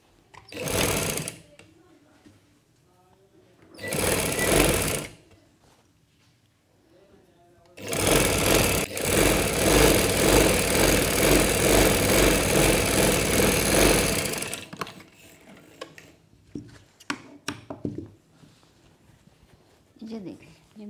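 A sewing machine stitches a baby girl's frock with added neck and hem lace, running in two short bursts and then a long steady stretch, with a voice talking in the quieter gaps.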